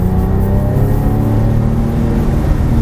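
A Porsche 997 GT3 at full throttle on a track, its engine roaring loudly and steadily with dense rising harmonics, close and unbroken for a few seconds.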